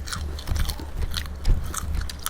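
Close, wet chewing and biting of raw beef larb eaten with hot sticky rice, steady mouth sounds with a few louder crunchy bites, no talking.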